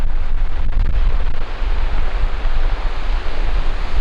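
Ocean surf pounds along the Yangnam coastal trail near Eupcheon harbor in Gyeongju, a loud, continuous roaring wash of waves with heavy wind buffeting the microphone and no voices.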